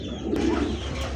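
A Tiger Deshi Golla or Tiger Giribaz pigeon gives a single close, low throaty coo, brief and fairly loud over quiet background.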